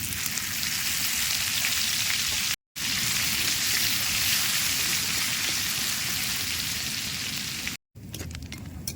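Ajwain, asafoetida and green chilli paste hit hot oil in a pan, a loud continuous crackling sizzle close up, broken by two brief cuts.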